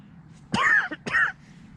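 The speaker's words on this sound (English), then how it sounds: "Had a bit of a cough this week, so you might hear me coughing every now and again." Person wild camping on Essex marshland giving two short, throaty coughs close to the microphone, one after the other, with quiet outdoor background between them.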